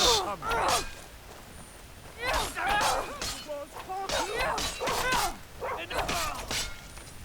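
A dog barks in Skyrim, a series of sharp, close, repeated barks and yips with uneven spacing, mixed with other voices and combat noise.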